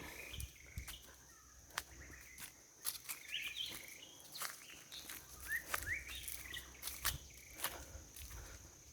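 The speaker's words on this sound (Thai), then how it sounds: "เสียงนกร้อง" Birds singing on a forested mountain, brief chirps and short whistled calls scattered over faint forest ambience, mixed with footsteps crunching and rustling along a trail.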